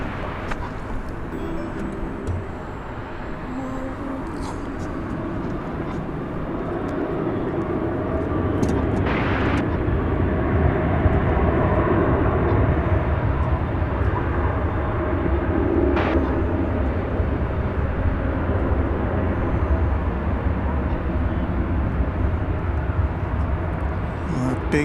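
A Qantas Spirit of Australia airliner approaches DFW Airport at night, its jet engine roar swelling into a broad, steady rumble that stays loud throughout.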